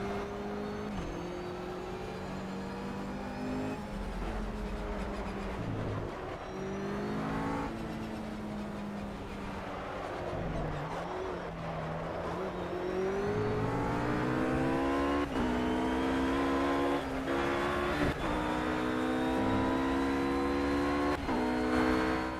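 Race car engine in the racing video game Project CARS, revving and shifting through gears with rising and falling pitch, loud and steady throughout with no talk.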